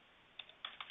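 Password typed on a computer keyboard while installing Avaya Aura System Manager, a few quick, quiet key clicks in an irregular burst, close and alone over faint room hiss.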